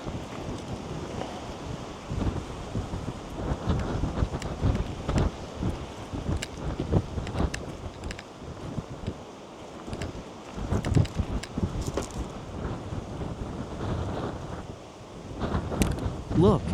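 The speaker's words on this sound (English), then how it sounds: "there's a really strong wind, as you can see, snow, rain, blizzard" Strong blizzard wind with snow and rain roars steadily and loudly against the microphone, buffeting in continuous gusts with no speech.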